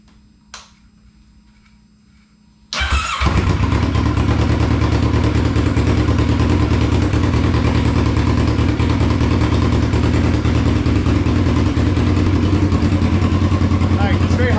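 A Kawasaki Ninja 650R motorcycle, just back from an oil change in a hot garage, cranks over briefly and fires up with a sudden loud burst, then settles into a steady, close, throbbing idle that runs on without a break.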